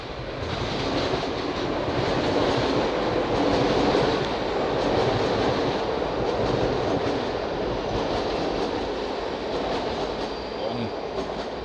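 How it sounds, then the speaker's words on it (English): A very long train rumbles past through a tunnel, a continuous heavy roar with faint rhythmic clatter of wheels that persists throughout. "Very long train."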